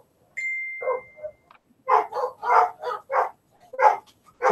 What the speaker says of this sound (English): It sounds like about five dogs.